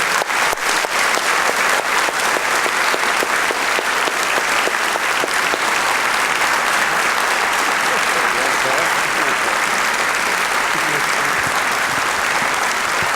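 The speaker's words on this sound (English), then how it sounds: "Let's give him a warm round of applause, please" A crowd claps in sustained, loud applause that holds steady from start to finish.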